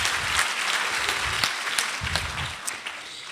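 A lecture audience at a public science and cooking talk breaks into applause, a brief burst of many hands clapping in a hall that fades toward the end.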